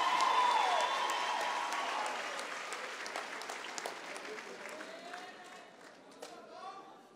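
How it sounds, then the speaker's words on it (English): Graduation-ceremony audience applauding the winning university rugby varsity team, a broad wash of clapping that starts strong and slowly thins out, with a voice speaking over it in places. "Let's give them another round of applause"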